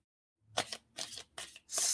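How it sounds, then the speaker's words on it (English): Tarot cards being shuffled, heard as four short, crisp riffling bursts close up in a quiet room, the last one the longest. "Tell me when to stop shuffling."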